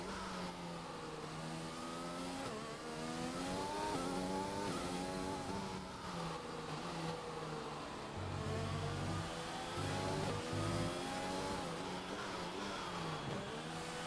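Race car engine in a sim racing game, revving and shifting through gears with rising and falling whine, steady and moderately loud without talk.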